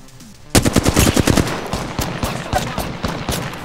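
Rapid automatic gunfire in Apex Legends, a loud burst of closely spaced shots that starts abruptly and keeps going in quick rattling bursts, some shots farther off.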